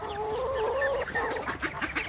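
Chickens cluck and call inside a brand new backyard coop, with a busy, overlapping flock chatter that continues throughout.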